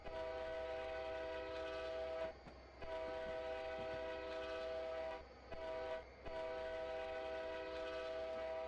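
A diesel locomotive's multi-tone horn in Train Simulator 2015 on the Yellowhead Pass route near Cedarside blares loud and steady, sounding in long blasts broken by two short gaps over a constant engine rumble.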